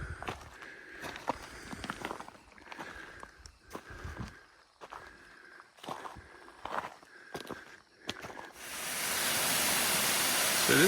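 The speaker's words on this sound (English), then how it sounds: "So this is the falls, obviously." Footsteps crunch along a trail at Litchfield National Park, then the roar of Tjaetaba waterfall swells in, a loud steady broadband rush filling the final seconds.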